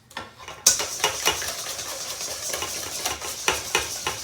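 Stirring and scraping in a bowl as sauce is whisked into a beaten egg mixture for pasticcio, a steady run of soft clinks and swishes after a brief quiet start, close and moderately loud.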